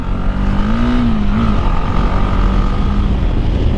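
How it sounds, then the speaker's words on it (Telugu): A Bajaj Dominar motorcycle fitted with a barrel exhaust revs loudly and close by, its engine note swelling and dipping in a sustained throaty roar for about four seconds, with no one speaking. "ఆ సౌండే వేరయ్యా. నేను నా ఈ డామినార్ లియోకి బ్యారల్ ఎగ్జాస్ట్ని ఇన్స్టాల్ చేసి"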